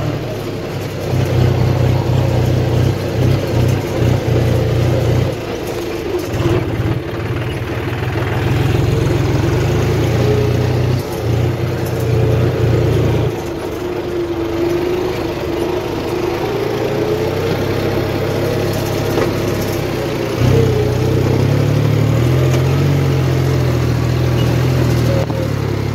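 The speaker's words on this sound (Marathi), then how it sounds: "तुम्हाला दाखवतो ट्रॅक्टर आता आपलं उचल" A loaded tractor's engine drones loud and close as it lifts its load, rising and dropping in pitch through several revving surges over a continuous mechanical rumble.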